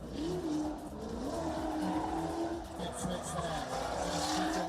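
A drift car at an Indonesian round of the Southeast Asia Drift Series howls through a slide, its engine droning at high revs over sustained tire squeal, heard from trackside with a commentator talking throughout.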